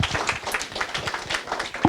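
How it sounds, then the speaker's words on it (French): An audience applauds after a presentation, with dense, steady clapping from a small crowd that swells slightly at the close. "on peut applaudir Jean-Philippe pour cette présentation"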